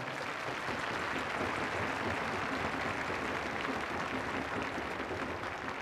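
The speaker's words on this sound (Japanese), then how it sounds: "皆様どうぞ大きな拍手でお迎えください" Dense, steady applause fills a large arena as the crowd welcomes the solo singer of Japan's national anthem, Kimigayo, before a Japan v Italy match. The clapping is continuous and even throughout, with no break and no voices above it.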